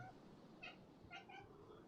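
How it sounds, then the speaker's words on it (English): A house cat meows faintly a few times in the background, brief high-pitched calls rising above a steady low hum with no talking. "you can hear from the background, it's again one of my cats saying hello"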